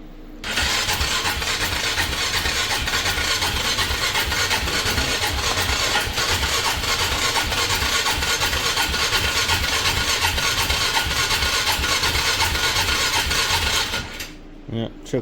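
A Polaris Magnum 330 ATV with hard-starting trouble fires up and settles into a loud, steady, rumbling idle close by, running evenly for over ten seconds before cutting out near the end.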